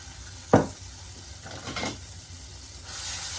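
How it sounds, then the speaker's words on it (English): Tikka spice paste frying in a pan, a sharp clatter of a spoon followed by scraping stirs over a steady sizzle, close and fairly loud with no talking. "Just fry that off until you can smell the spices."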